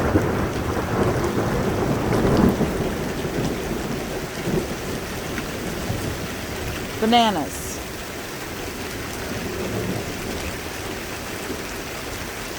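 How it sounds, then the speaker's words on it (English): Heavy rain pours steadily during a storm with marble-size hail, thunder rumbling beneath it, and a brief whooshing swell partway through; people talk quietly over the downpour. "This is so much rain."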